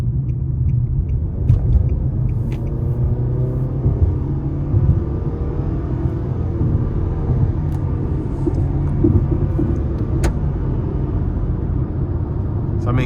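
A 2025 Nissan Sentra S engine pulls hard while merging onto an interstate, a loud, steady low drone with road rumble heard from inside the cabin, without speech.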